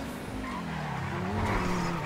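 A car in GTA V skids and spins out with one continuous tire squeal lasting about two seconds, loud and close over engine noise.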